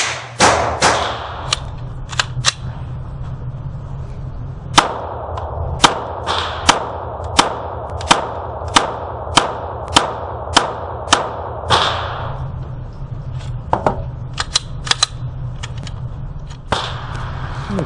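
A Glock pistol fitted with Snake Eyes ghost ring sights fires Magtech rounds at a target 5 yards away: a loud quick string of shots, then a few more spaced single shots after a short pause.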